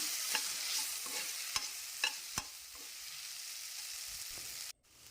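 Tomatoes sizzle softly while being stirred and fried in a pan for an aloo capsicum dry dish, with a spatula scraping and tapping in several light clicks over the quiet background hiss.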